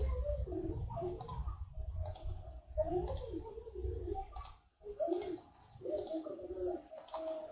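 A computer mouse clicks several times at a steady pace while a SolidWorks part model of a flange mount is being drawn; the clicks sound close and crisp over a low background murmur.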